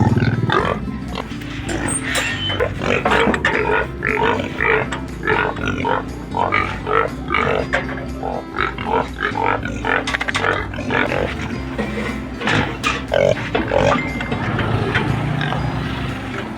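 Pig being weighed grunts repeatedly in short, rhythmic bursts close by, with people talking in the background.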